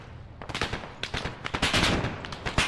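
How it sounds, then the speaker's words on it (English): A quad .50 machine gun mounted on a tall tower in ARMA fires rapid heavy bursts, the rattling shots coming in rhythmic clusters that grow denser and louder toward the end. "there's a fucking quad 50 up on the big tower"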